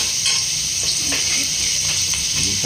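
Ginger sautés in a hot pan with a constant close sizzle, broken by soft, irregular scrapes and taps as it is stirred.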